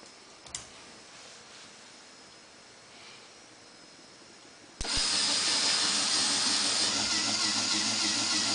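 A fischertechnik motor on a pneumatic hand model starts abruptly after a few quiet seconds, then runs as a loud, steady mechanical whir with a hissing, buzzing edge until the end.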